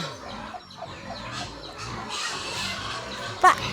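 Several chickens cluck and murmur nearby amid rustling background noise on a farm at feeding time, with a sharper squawk near the end.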